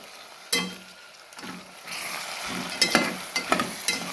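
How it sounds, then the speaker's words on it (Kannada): Ground chili, herb and ginger-garlic paste frying in a pressure cooker for tomato and field-bean rice, a soft sizzle with scraping stirs and a few sharp clinks near the end, no voices. "ಅದನ್ನ ಇವಾಗ ಕುಕ್ಕರ್ಗೆ ಹಾಕಿ ಫ್ರೈ ಮಾಡೋಣ ಒಂದು 2 ಮಿನಿಟ್ಸು"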